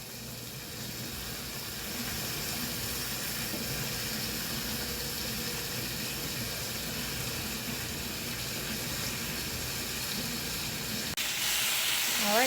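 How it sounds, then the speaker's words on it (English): Onions and peppers for steak fajitas cooking in a hot pan: a continuous broadband sizzle and hiss that holds steady, then brightens and grows louder near the end, with no talk. "the onions and the peppers are cooking away"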